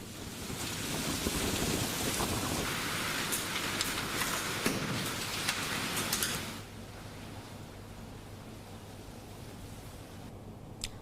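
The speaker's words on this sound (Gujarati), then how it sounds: "સુરતમાં પવન સાથે ધોધમાર વરસાદ વરસ્યો" Heavy rain pours in a dense, continuous hiss as wind gusts buffet the microphone in Surat, growing a little softer after the first several seconds.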